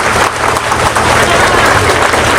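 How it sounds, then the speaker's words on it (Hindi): A crowd at a school sports competition in Malpura claps loudly to welcome a guest, a dense, steady roar of applause that fills the whole stretch without a break. "जोरदार तालियों से स्वागत करें।"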